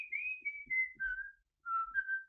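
Clear solo whistling of a short Russian song melody in two phrases with a brief pause between, bright sustained tones sliding gently downward, close and alone.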